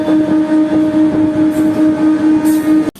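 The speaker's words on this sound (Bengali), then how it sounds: "সাগরদিঘি রেল গেট পার হচ্ছে ট্রেন" Katwa-Rampurhat MEMU passenger train passing the Sagardighi rail gate, a loud, continuous rumble with a steady droning motor tone and rhythmic wheel clatter close by, cutting off sharply at the end.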